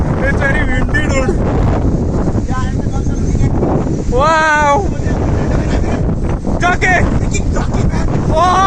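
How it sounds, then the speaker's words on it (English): Strong gusts buffet the microphone on a windy beach, a constant roaring rumble under excited shouts and chatter from several people. "It's very windy, dude."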